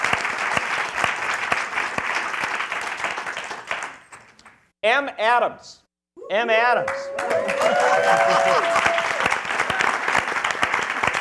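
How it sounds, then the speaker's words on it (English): Loud audience applause at a civil rights event fills the hall, breaks briefly while a speaker's voice is heard, then the clapping swells back up and continues strongly. "You get the applause before you're even introduced."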